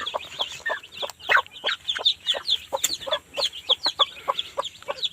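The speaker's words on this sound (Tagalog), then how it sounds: "gusto ko lang kayo i-update sa mga sisiw natin bagong pisa" A hen clucks alongside a cluster of newly hatched chicks peeping busily, a lively overlapping chatter of short calls close by.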